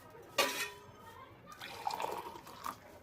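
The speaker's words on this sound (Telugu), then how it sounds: "ఇప్పుడు దీంట్లో హాట్ వాటర్ తీసుకోవాలి మనం." Hot water is poured into a glass holding two spoons of energy drink powder, a brief faint splash followed by soft trickling and dripping, with quiet room tone around it.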